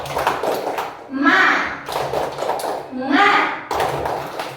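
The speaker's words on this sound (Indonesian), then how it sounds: "kita tepuk semangat dulu. Tepuk semangat." Children in a classroom perform a rhythmic 'tepuk semangat' clapping chant, with bursts of patterned claps alternating with their chanted voices, loud and close.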